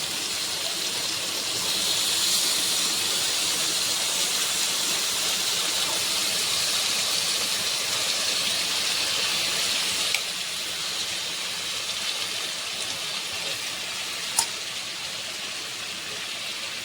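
A small splash of water hisses and steams in a hot karahi, a continuous even broadband hiss that holds steady throughout, with one faint click partway through and no talking.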